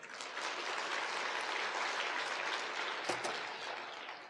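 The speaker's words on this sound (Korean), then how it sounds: "노인들 위해서 박수 한번 쳐주세요." Congregation at a Korean church sermon clapping together, a broad sustained round of applause swelling quickly and holding steady for several seconds before easing slightly, with no voices on top.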